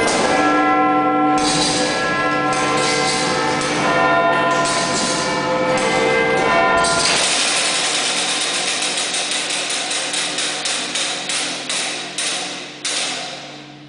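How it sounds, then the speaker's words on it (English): Big Ben's great clock bell chimes loud and resonant inside the Westminster clock tower, then the fly fans in the striking mechanism spin with a fast, repeating mechanical whir and clatter that gradually slows. "when Big Ben chimes, basically, one of the fly fans spin."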